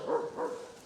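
A puppy on a farm gives two short, soft barks close by, quiet and slightly whiny, in quick succession.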